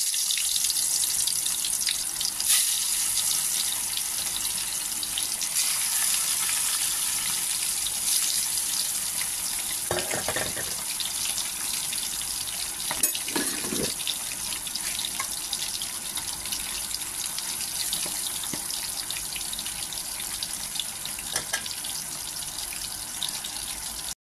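Fish frying in a pan of hot oil in a home kitchen, a steady broad sizzle that runs without a break, with a few brief clatters along the way.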